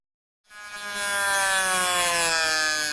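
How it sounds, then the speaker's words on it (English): A Dremel rotary tool starts abruptly after a moment of silence, spinning up to a loud, steady, high-pitched whine on a cardiovascular critical care unit, and holds that tone to the end. "the noise isn't a drill. It's actually a Dremel"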